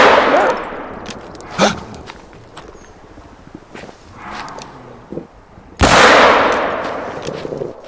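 Two sharp rifle shots from a hunting game set in the wild, aimed at a bison: one crack near the start, then a louder, closer blast followed by a long rumbling echo and faint footsteps between them.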